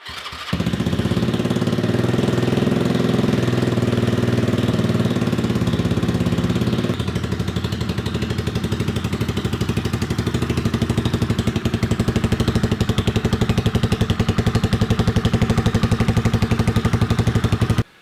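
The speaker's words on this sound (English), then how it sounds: "So the bike fired up instantly, which is great in some ways, but not so good in others." A scrambler motorcycle with a freshly tuned carburetor, running rich, fires up at once and settles into a loud, steady idle in a cold garage, the engine note dropping slightly after a few seconds and holding continuously to the end.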